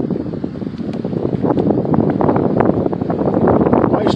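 Wind gusting steadily through a forest, a continuous close rushing roar with buffeting against the microphone and faint rustling, no speech over it.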